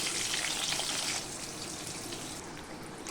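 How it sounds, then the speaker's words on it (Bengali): Eggplant slices frying in hot oil give a steady, dense hiss that sounds close and fairly loud, easing slightly after the first second and continuing without talk. "বেগুনগুলো ভেজে নেব।"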